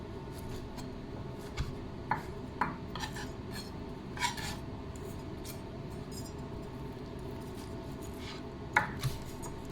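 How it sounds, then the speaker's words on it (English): Knife cutting through crispy lamb shoulder fat on a board, faint scattered scrapes and crackling cuts with a few sharper clicks against quiet kitchen background. "just want to cut through all that beautiful crispy fat"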